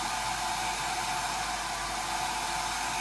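A hair dryer blows steadily at close range, a loud, unbroken airy roar that holds constant throughout with no talk over it.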